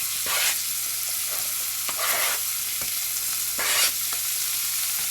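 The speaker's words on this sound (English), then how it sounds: "I'll put a bit of olive oil in there and chuck a bit of butter as well. I might just throw the onion in." Onion frying in olive oil and butter in a pan, a steady close sizzle with bursts of louder hissing as it is stirred and tossed, sharp little pops, no voices.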